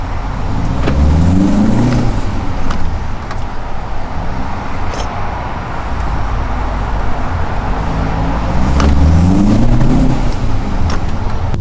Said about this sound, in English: I'll open the window so you can hear it.